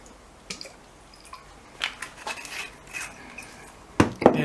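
Vinegar poured onto a homemade pepper salad, heard as soft scattered drips and splashes with a few light clinks of a dish, fairly quiet and close.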